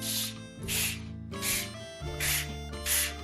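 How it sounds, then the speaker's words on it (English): A spray bottle hisses water onto watercolor paper in five quick, evenly spaced bursts over soft background music, close and moderately quiet. "then lightly spray it with water"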